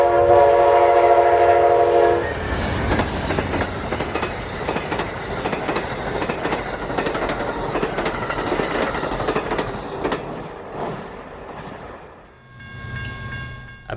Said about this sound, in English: as we wait on Amtrak's northbound Silver Star, PO92, as it has just departed its Lakeland station stop and flies westward past us